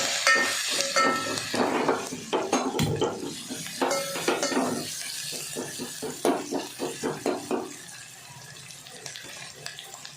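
Coriander powder and ground green chili being sautéed in a pan, heard as close clattering stirs and spoon scrapes with a wet sizzling undertone, the strokes becoming sparse and rhythmic later on.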